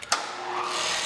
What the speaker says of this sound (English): And when I engage this, what we should see is that head going up and down